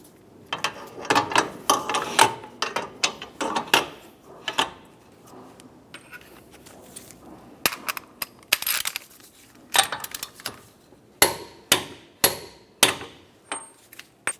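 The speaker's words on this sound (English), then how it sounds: "use a hammer and punch" A hammer drives a punch against the axle nut of a Honda Civic CV axle, giving sharp metallic strikes in irregular bursts, some rapid clusters and some single blows, close and loud with no talk.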